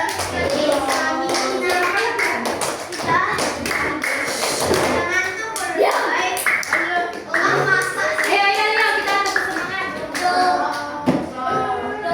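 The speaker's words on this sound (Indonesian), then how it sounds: "Yuk kita tepuk semangat dulu, berdiri semuanya." A class of fifth-grade schoolchildren stand and perform a rhythmic clapping cheer, bursts of sharp unison claps falling into patterned beats while a teacher and the children chant and talk loudly between and over the claps.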